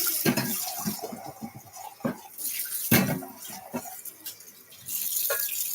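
Water running from a kitchen faucet over dishes, rinsing them in a two-basin sink, with soft clinks of dishware; the flow starts and stops in close, uneven bursts.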